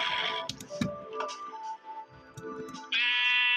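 Sheep bleating in Minecraft, wavering nasal cries with a few soft clicks between them, ending on a sustained bright tone.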